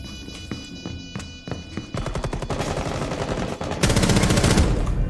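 Gunfire in the game Rainbow Six Siege: a few separate sharp shots, then rapid sustained bursts that grow louder and denser toward the end.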